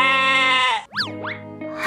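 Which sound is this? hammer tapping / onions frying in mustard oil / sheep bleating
sheep bleating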